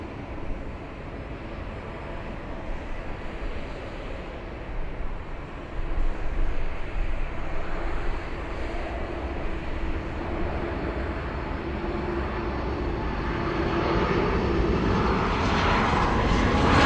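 Lufthansa Airbus A380 bound for Munich takes off from Los Angeles International Airport, its jet engines a steady rumbling roar that swells louder midway and again near the end, heard alone without talk.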